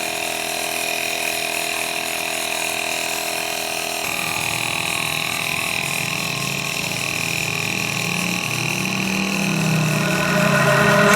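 A portable rechargeable pressure washer rinses a motorcycle, a steady motorized hum like a small pump running continuously, with a watery rushing that swells and grows louder toward the end.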